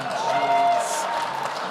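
An audience at a formal event with an immigration minister breaks into applause, a brief, moderately loud wash of scattered clapping with voices mixed in.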